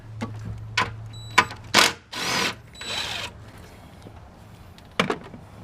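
A bolt is taken off a 2012 Dodge Grand Caravan during alternator replacement, with sharp metallic clicks and short bursts of a whirring power tool, loud and close, then a final click.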